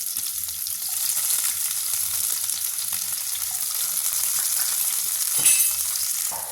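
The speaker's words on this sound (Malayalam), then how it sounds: "ഒരു സ്പൂൺ നെയ്യ് ഒഴിച്ചു കൊടുക്കാം നമുക്ക് ആദ്യമേ കുറച്ച് ഉണക്കമുന്തിരി ഇട്ട് കൊടുക്കാം" Raisins sizzle and fry in a spoonful of hot ghee, a steady close crackling hiss with occasional soft stirring clinks, no voices.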